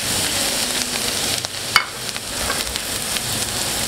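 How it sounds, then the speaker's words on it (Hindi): Sliced garlic and onion sauté gently in a pan, softening without browning, for a green pasta sauce: a steady close sizzle broken by scattered sharp clicks and taps of stirring. "लहसुन प्याज हमारा फ्राई हो चुका है"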